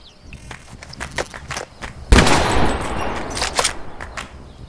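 Gunfire erupts in the horror video game The Quarry, a sharp loud shot followed by a dense burst of rapid booming blasts and rumbling, preceded by a few softer thumps like footsteps.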